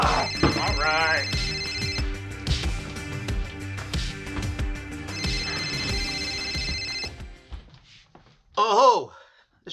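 A home telephone rings repeatedly in steady electronic trills under a television playing and a shouted exchange in the house, then stops and a voice briefly speaks.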